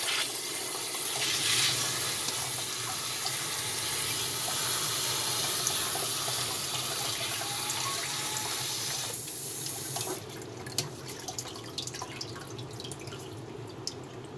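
Water pours from a tap into a sink while someone rinses and draws water, a steady close gushing that runs continuously, then eases into lighter splashes and drips near the end with no talking.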